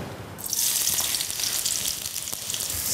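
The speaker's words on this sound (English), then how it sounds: "The oil is hot now. Let's add half of the onions to it." Onions dropped into hot oil burst into a loud, bright sizzle that starts suddenly after a short quiet moment and keeps hissing steadily up close.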